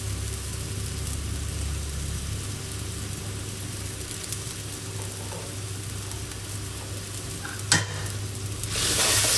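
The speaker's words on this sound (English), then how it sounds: "Stir it all up well" Dark soy sauce, kaffir lime leaves, carrot, corn and sliced chili sizzle and get stirred in a hot pan, a steady close hiss with occasional scrapes and a sharp clatter near the end.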